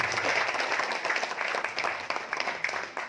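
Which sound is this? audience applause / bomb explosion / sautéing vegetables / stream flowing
audience applause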